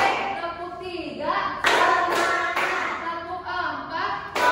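Children clapping in rhythm in a classroom during a counting clap game, with loud bursts of claps alternating with a teacher's voice speaking between them.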